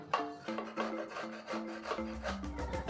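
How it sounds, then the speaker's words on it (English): Fresh coconut flesh is grated by hand in quick, rhythmic scraping strokes, close and fairly quiet, with a faint tonal hum running underneath. "So the flesh of the coconut is now clean, and now we grate it."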